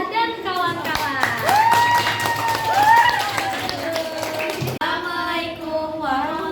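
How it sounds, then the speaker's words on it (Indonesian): Classroom audience clapping for a student group's presentation, brisk, scattered claps under lively voices and excited calls, fading as the next group begins speaking. "Tepuk tangan untuk Ukti, Nafisah, dan kawan-kawan."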